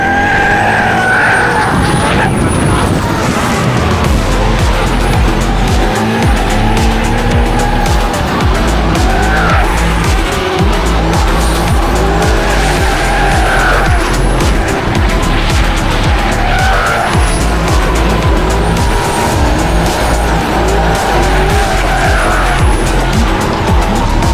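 A battered BMW F21 drift car skids on track with loud, sustained tire squeal over a roaring, revving engine, with repeated long screeching slides throughout and no voices.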